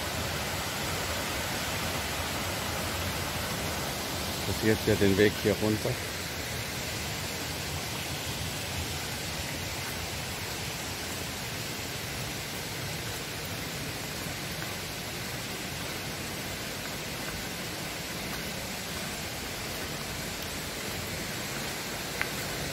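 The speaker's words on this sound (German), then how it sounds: "Das ist der Wasserfall von Sundagila." Steady, dense roar of the Sendang Gila waterfall at Senaru on Lombok, a continuous broadband rush that holds constant throughout, with a brief burst of nearby movement early on and a person speaking softly over it.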